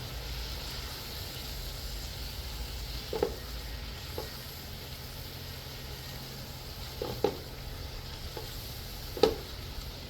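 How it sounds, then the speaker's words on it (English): Snapper stew stirred in a pot, a steady bubbling simmer running underneath with a few sharp scraping knocks of the spoon against the pot, faint and close. "Stir this up real good."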